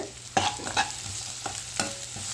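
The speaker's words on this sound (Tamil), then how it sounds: "இந்த வெங்காயம் நல்லா சுருள வதங்கிருச்சு" Onions fry in a pan for mushroom biryani, with a soft continuous sizzle broken by four or five distinct scraping stirs, close and moderately loud, with no voices.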